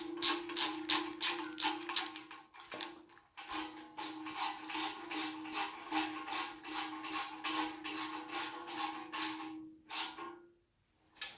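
A socket ratchet tightens the bolt holding the oil pickup tube on a 5.3L LC9 engine during final assembly, giving rapid, steady clicking strokes close up, with a brief pause near the end and no talk.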